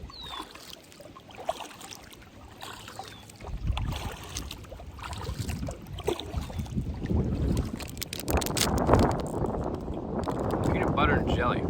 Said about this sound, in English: That wind just keeps throwing us around.